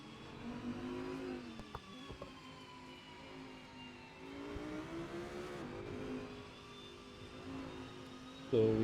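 A race car at Paul Ricard during a practice session is worked hard through a series of corners, its engine note rising and falling steadily with revs, loud and continuous throughout.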